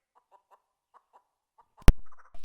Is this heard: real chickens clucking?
yes